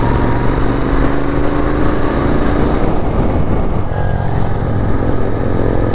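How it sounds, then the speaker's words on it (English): A Royal Enfield GT 650 Twin motorcycle with stock exhaust rumbles steadily up close, a low throaty exhaust drone with a slight change in pitch partway through. "I don't know if you guys can hear the exhaust note or not, since this is running on stock exhaust."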